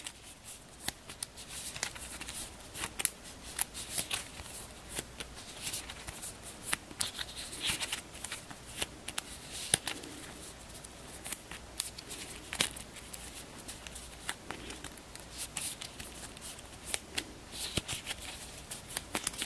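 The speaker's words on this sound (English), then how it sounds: "I need to do a little bit more shuffling" A deck of cards for The Guild of Merchant Explorers board game is shuffled close up in repeated bursts of riffling, flicking and slapping, with brief pauses between passes and no talking.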